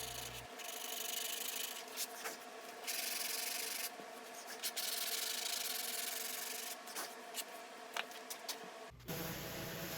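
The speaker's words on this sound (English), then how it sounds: "Occasionally during a build, I'll stop to sand a bit." Hand sanding of wooden shelf parts for a Shaker peg board shelf, a steady close rasping rub in long continuous strokes with brief pauses, ending abruptly.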